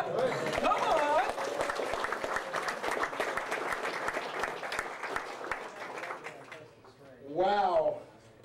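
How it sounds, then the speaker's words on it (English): Ham radio club audience giving a round of applause to members who upgraded to a General class license, steady clapping from a room of people that fades out, followed by a brief voice. "stand up so everybody can give these guys a round of applause"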